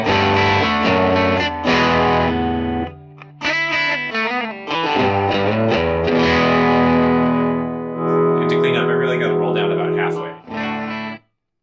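Heavily distorted electric guitar chords and notes ring out loudly, about 105 dB, through a Milkman Hi-Fi 5W mini tube amp set at 3, with pauses between phrases and a final chord cutting off.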